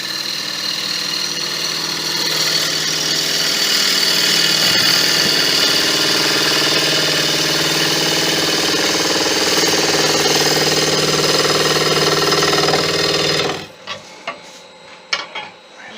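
A Crown Crio gouge cuts a wooden bowl on a woodturning lathe, a loud, continuous rasping roar that holds steady for about thirteen seconds before stopping abruptly, followed by a few faint knocks.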